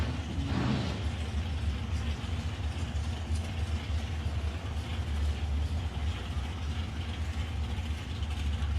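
An Osdig-sponsored drag racing car idles grunty at South Coast Raceway before launch, a steady, loud, low engine rumble holding evenly throughout with no voices.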